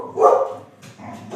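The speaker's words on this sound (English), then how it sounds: "My dog just went so stupid barking." A dog barks loudly nearby in a home during a podcast, one strong bark followed by a second weaker one, with a brief spoken word mixed in.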